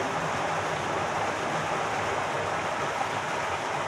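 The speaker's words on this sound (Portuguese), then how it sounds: "Ó lá a água passando, ó." Underground river water rushes through a cave at Rio Encantado, a steady dense roar of flowing water, even and continuous throughout at moderate loudness.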